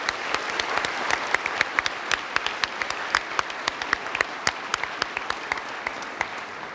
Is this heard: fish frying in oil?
no